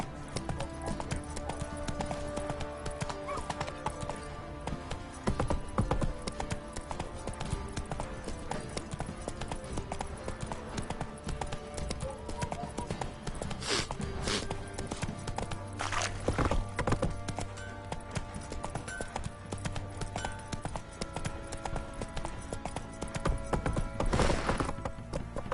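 Hoofbeats of the horse Roach in The Witcher video game clip-clop in a steady walking rhythm, joined by occasional snorts and whinnies, with game dialogue and background music mixed underneath.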